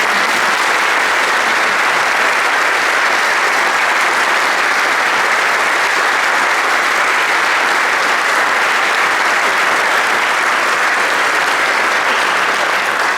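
An audience at a municipal award ceremony in Sevnica applauds loudly and steadily, a dense and sustained clapping from many hands that fills the whole stretch.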